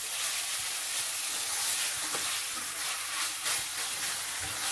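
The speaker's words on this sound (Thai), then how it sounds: "ผัดให้ทุกอย่างรวมกันอีกสักเล็กน้อยนะครับ" Glass noodles and bacon sizzle and hiss steadily in a hot pan as they are stir-fried together, with occasional scraping of the spatula.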